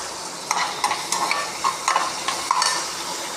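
Chopped onions fry in a pan for a dried-fish gravy, a steady close sizzle broken by light, regular spatula scrapes and clicks, with no voices.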